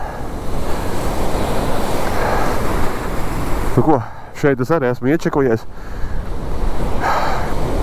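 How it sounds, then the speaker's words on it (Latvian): Sea waves wash and splash onto the Latvian shore in a steady loud roar with wind buffeting the microphone, while someone talks briefly over it. "Vilniši labi šļakstās."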